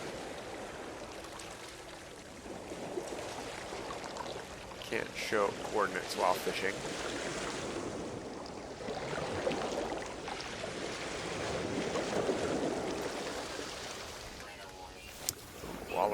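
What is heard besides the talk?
loud water in a video game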